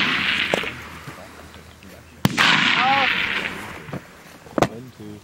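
A vintage rifle fired at a 300-meter target range gives one sharp, loud crack followed by a broad rumbling tail, then a second sharper report near the end, with people talking faintly in between.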